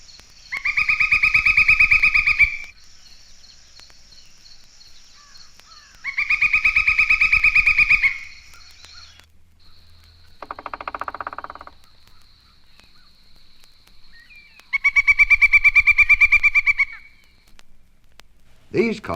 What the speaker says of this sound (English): Here is a similar call and the rapid drumming of the nearly crow-sized pileated woodpecker.